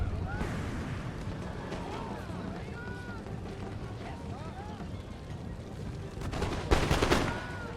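In the Empire: Total War strategy game, a musket volley fires near the end as a sharp, loud crackling burst of many shots, rising over a steady rumble of battle noise and voices.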